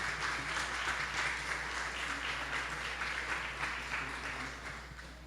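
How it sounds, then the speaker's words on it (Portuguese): A church congregation applauds during an evening service, a soft, even patter of clapping heard from some distance that slowly fades toward the end. "Você pode aplaudir Jesus pela vida da irmã?"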